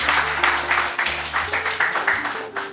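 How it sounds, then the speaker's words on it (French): Bursts of clapping from a small group at a debate as candidates are introduced, rising and falling in uneven waves with a low hum underneath. "Sous vos tonnerres d'applaudissements."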